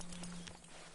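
Horse hooves clip-clop in a quick, steady rhythm in the Red Dead Redemption 2 video game, close and moderately loud, with a low steady hum underneath and no talking.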